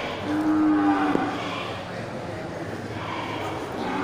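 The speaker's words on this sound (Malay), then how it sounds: "Mantap ya, kerbau albino jantan super ya." A male albino water buffalo, a large fat breeding animal, gives a short nasal moo up close, followed by outdoor farmyard background noise at a livestock sale.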